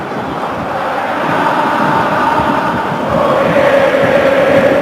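A football stadium crowd reacts to a substitution with a dense, steady roar that stays loud throughout and swells further near the end, with no distinct voices.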